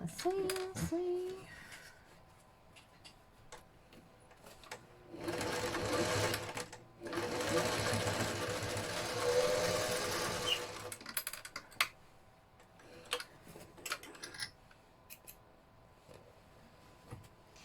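A sewing machine stitches a vinyl zipper pouch in short runs, with quiet start-stop bursts and a longer steady whirring stretch in the middle, close up with no talking.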